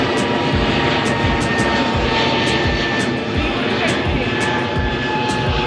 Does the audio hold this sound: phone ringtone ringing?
no